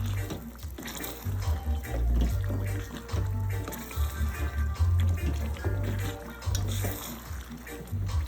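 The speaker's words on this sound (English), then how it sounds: "I'm gonna add just a little bit of water." A small amount of water is poured into a homemade chicken curry mixture with tahini, giving a soft, uneven trickle and gurgle close by in a kitchen.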